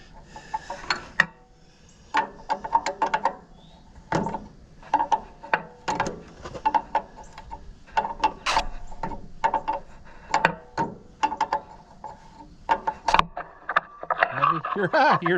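A wrench works a fitting on the fuel system of a John Deere 1020 tractor, giving close, irregular metallic clicks, taps and scrapes spread through the clip, with a voice speaking at times.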